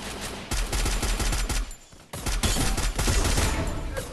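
Rapid bursts of video game gunfire fill a team battle royale match, with dense volleys, a short pause near the middle, then more sustained shooting at close range and loud.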